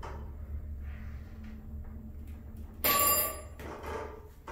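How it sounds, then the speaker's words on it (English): A vintage elevator bell, in a Montgomery or Westinghouse car, gives one sharp ringing clang that decays quickly over a quiet mechanical hum. "I love that bell."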